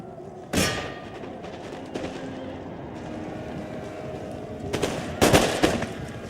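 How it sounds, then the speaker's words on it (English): Heavy musket volleys in a Total War Empire battle crackle in bursts, with one sharp volley early and a denser cluster of rattling shots near the end over a low, steady battlefield rumble. "Receiving heavy musket fire here."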